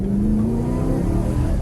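A BMW E92 M3 Competition Pack engine revs hard as the rear slips out on a wet, slippery road, a loud, steady mid-pitched drone held close for the whole moment with no talking.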